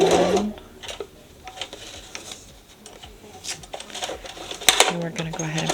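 A sewing machine stitches around an adjustable strap in two short whirring bursts, one at the start and one near the end. A person talks between them.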